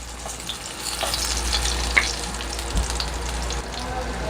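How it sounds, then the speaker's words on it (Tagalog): Onion sautéing in a pan after garlic has been browned, for beef kaldereta: an even, hissing fry with a low background hum and an occasional clink of a utensil, no voices. "sunod na yung sibuyas. Gisahin lang ito hanggang sa maluto."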